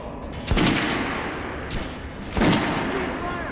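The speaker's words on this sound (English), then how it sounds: "Head over to my range and try out those guns." Guns are fired at a shooting range in the video game Metro Last Light Redux, with three loud, sharp shots spaced unevenly and each trailing a brief echo.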